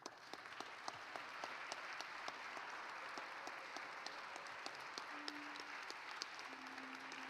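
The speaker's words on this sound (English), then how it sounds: "Give it out a round of applause." A crowd applauds at a Cleveland city council meeting, with steady, dense clapping that runs throughout and sharp individual claps standing out over the wash.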